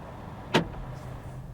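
A Volvo EX30 locking remotely from its phone app gives one short, sharp mechanical clunk from the door locks, a single brief click against a quiet background.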